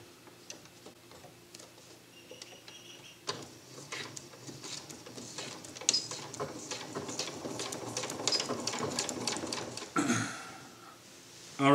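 A sewing machine runs a straight stitch through taut quilt fabric for an underquilt, a fast, even mechanical ticking and whirring that starts softly and builds, then stops with a brief rustle.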